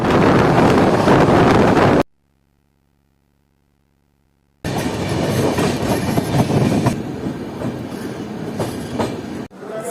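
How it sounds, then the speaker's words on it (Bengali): Uttarbanga Express, an Indian passenger train from Kolkata, running at night: a loud, steady rumble with rattling and wind noise, cut by about two and a half seconds of near silence before the roar resumes. "আমাদের ট্রেন একটা পৌঁছেছে শামসি রেলওয়ে স্টেশন।"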